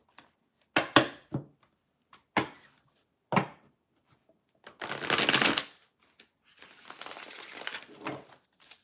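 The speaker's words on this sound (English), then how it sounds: "In the meantime, while I'm shuffling, I want to say hi to everybody who's here." Tarot cards are shuffled by hand in bursts: several sharp separate riffles and taps, then a long dense riffling run and a second, rougher stretch of card shuffling, close and clear in an otherwise quiet room.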